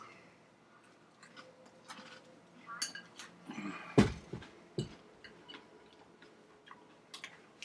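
Quiet, close crunching and chewing with scattered soft clicks, then a sharper crunch midway, followed by more intermittent chewing.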